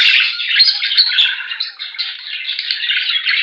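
A dense chorus of caged budgerigars squawks and chirps continuously, many overlapping bright calls close by with no pauses.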